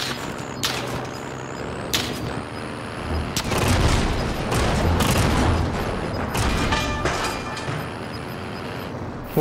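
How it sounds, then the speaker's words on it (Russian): Gunfire in the video game Call of Duty: Warzone comes as sharp reports and booms, some close and some distant, spread irregularly over a rumbling background of vehicle noise. "Вот там был выстрел."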